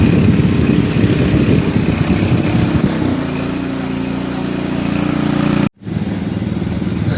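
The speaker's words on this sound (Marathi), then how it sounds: "तर आता आपण ट्रॅक्टर पॉवर वगैरे चालू करून बघूया" A small petrol engine on a power weeder runs steadily and loud nearby, its pitch settling lower partway through, with a brief cutout before it continues.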